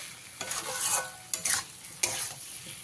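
A spoon stirring aloo posto with sugar in a pan, making three short scraping strokes over a soft sizzle, close and clear with no voices.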